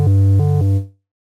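Synth pad built from wavetable oscillators layered with a touch of white noise, holding a warm low chord with two quick rearticulations and a soft hiss, then fading out, alone.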